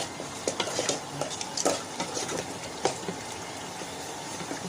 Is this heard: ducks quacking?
no